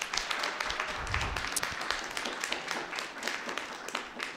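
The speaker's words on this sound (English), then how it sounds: "So if I can just get you to give them a round of applause again" A small audience at a Toronto civic meeting claps. The applause is modest and somewhat distant, with scattered individual claps in an irregular patter that continues without a break.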